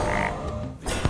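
A frog croaks in Hearthstone after a hero is turned into a frog, one short, throaty ribbit over busy game music.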